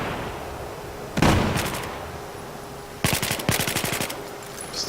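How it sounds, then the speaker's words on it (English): Video game gunfire during an organized combat scrim: a single burst of shots, then a longer run of rapid automatic fire with a short pause, loud and close, with no talk. "He shoots, he kills Macchiato"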